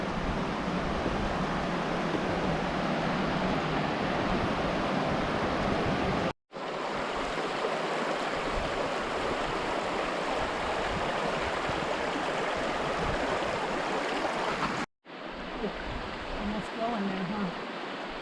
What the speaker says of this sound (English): I hear the falls up here.